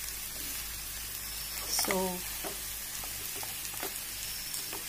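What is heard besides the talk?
potatoes frying for Mumbai-style potato sabzi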